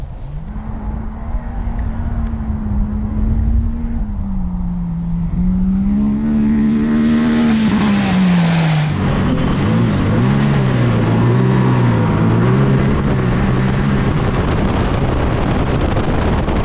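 A car engine roars and revs, pitch rising and falling through gear changes, loud and close with wind buffeting throughout.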